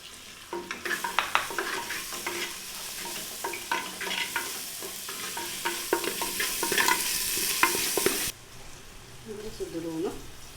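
Tomatoes go into a hot pan and sizzle as they are fried and stirred, with repeated close scraping and clinking strokes over a steady frying hiss that cuts off abruptly, followed by a brief voice.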